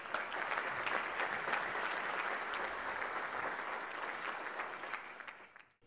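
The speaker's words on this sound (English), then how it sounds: "If you would please join me in a warm applause for the CEO of Teradyne, Greg Smith." Keynote audience at a conference applauding the CEO of Teradyne: dense, sustained clapping from a large crowd, steady and loud throughout before tapering off at the very end.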